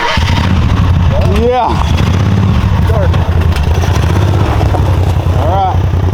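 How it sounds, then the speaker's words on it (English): A 999cc V-twin motorcycle engine idles with a steady, loud low rumble that runs without pause, while people talk briefly over it. "All right, start your engines."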